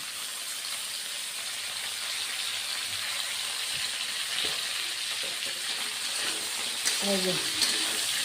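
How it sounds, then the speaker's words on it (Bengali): Moringa drumsticks and potato fry in a pan as eggplant pieces are added, giving a steady close-up hiss of sizzling oil with a few soft clatters and a brief scrape near the end. "সজনে আলু অল্প ভেজে নিলাম এবার বেগুনগুলিও দিয়ে দিচ্ছি"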